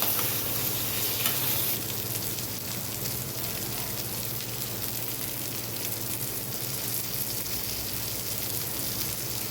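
Drumstick curry fries in a pan while being stirred, with a steady, close sizzle and crackle running throughout and no voices over it.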